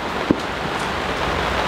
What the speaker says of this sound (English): It's raining and we got water in the tent.